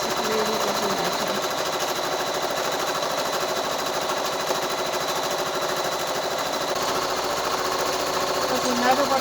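Steady, fast mechanical whirring of a sewing machine stitching fabric for a quilt, running continuously at close range throughout, with a speaking voice over it.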